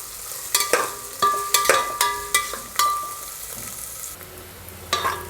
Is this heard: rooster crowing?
no